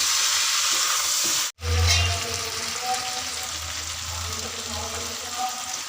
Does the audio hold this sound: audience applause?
no